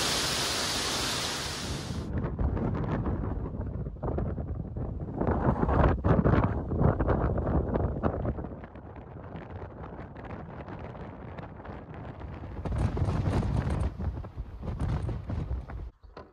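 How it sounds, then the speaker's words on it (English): Wind rushes steadily through forest trees near vacation homes, a broad, dense roar that swells and eases in gusts, fairly loud and close, with no voices. "sound of the wind in the forest, in the trees."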